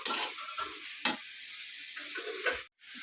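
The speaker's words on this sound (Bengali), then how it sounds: "ভালো করে কষাই নিব, টমেটোটা যেমন গলে যায়।" Spices and tomato sizzle and fry in a pan for potato curry, with a spoon scraping and stirring in a few distinct strokes over a steady hiss, close and fairly quiet, ending in a brief silence.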